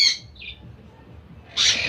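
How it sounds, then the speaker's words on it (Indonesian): Lovebirds kept in a colony breeding setup give short shrill squawks, one at the start, a brief chirp, then a louder harsh burst near the end, close by over quiet background. "Ini burung lovebird."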